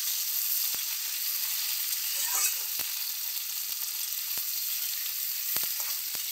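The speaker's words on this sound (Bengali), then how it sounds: "ডাঁটাগুলো দিয়ে আমি বেশিক্ষণ ভাজবো না" Vegetable stalks fry in a pan with a steady, bright hiss of sizzling oil, broken by a few sharp clicks and scraping stirs, close and continuous without talk.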